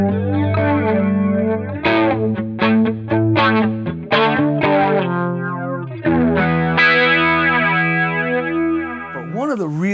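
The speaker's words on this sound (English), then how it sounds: "an Electra flanger" An Electra flanger guitar pedal sweeps a chorded electric guitar through a swirling, whooshing, jet-like effect, loud and close, with strummed chords and sustained notes across the whole stretch.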